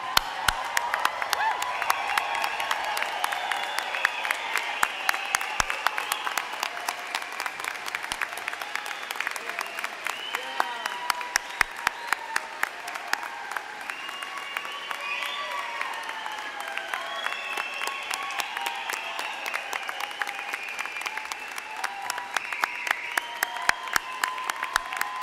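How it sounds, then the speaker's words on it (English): A large crowd at the UW-Stout Spring 2025 Graduate School commencement gives loud, energetic applause, dense clapping that goes on for the full stretch, with cheering and whoops rising over it. "share in a really energetic applause"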